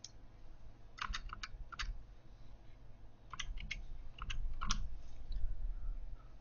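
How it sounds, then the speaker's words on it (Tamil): Keys clatter on a computer keyboard in short bursts of typing, with a firmer press like an enter key among them, over a low steady background hum; no voices. "ஸோ டைப் பண்ணி என்ட்ரு கொடுக்குறேன்"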